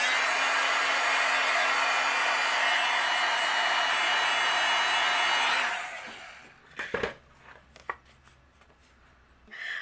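A heat embossing tool blows with a steady, loud, breathy roar for about six seconds as it melts white embossing powder over flowers on a card layer. It then cuts off, and a few sharp handling clicks and taps follow close by.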